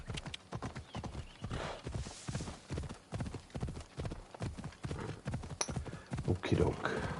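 A donkey's hooves clip-clop steadily in the Assassin's Creed Odyssey video game, a fast, even patter of hoofbeats near and fairly loud, with a whinny toward the end and game ambience underneath.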